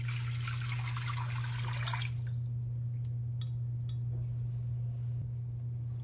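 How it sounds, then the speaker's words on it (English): Four cups of water pour into a stock pot in a dense, splashing rush for about two seconds, then stop, leaving a few drips and small clinks over a steady electrical hum. "we're going to go to our pot, our stock pot, and we're going to add 4 cups of water"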